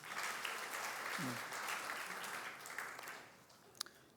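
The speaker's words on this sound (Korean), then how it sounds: "어쨌든 고맙다고 인사해 주세요. 박수" Faint, distant clapping from a congregation at a Sunday worship service thanks a family, a soft continuous patter that tapers off near the end, with a brief voice early on.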